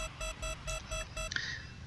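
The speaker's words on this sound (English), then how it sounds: "That beeping noise, by the way, is when a guided missile is launched against you." A rapid electronic guided-missile warning beep in the video game Ruined Horizons repeats in evenly spaced pulses, six in a row, then stops as a brief whooshing tone follows.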